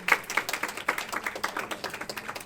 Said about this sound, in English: The clap must continue